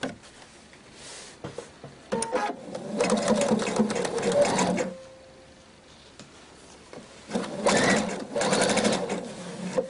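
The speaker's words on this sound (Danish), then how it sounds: "så hjælper symaskinen mig lige til at holde sømmen pænt sammen" A sewing machine stitches a seam on a dolman dress in two fast whirring bursts with a quiet pause between, close up and loud.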